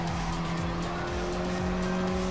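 A race car in Gran Turismo Sport drives itself around a corner, with a steady loud engine drone and tire squeal running throughout.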